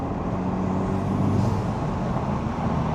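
A Honda Civic Type R fitted with a PRL drop-in intake filter drives along under a steady engine and road rumble, with a faint, higher-pitched turbo whine rising briefly midway.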